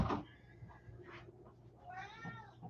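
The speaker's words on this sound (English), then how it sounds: "And you might be able to hear my cat meowing in the background." A cat meows and wails close by, with a few drawn-out calls rising in pitch over a quiet indoor background.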